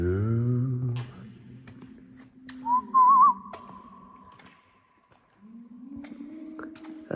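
A person whistles a short, wavering melodic phrase inside a dark, empty abbey, the tone ringing briefly between soft hums and quiet room noise, with a low voiced hum at the start and end.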